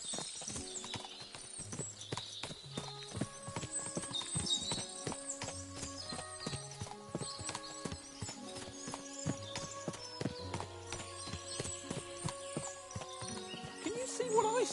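Galloping horses and whinnies from the medieval video game Kingdom Come Deliverance 2, a steady run of hoof clatter with neighs over game music throughout, loud and close.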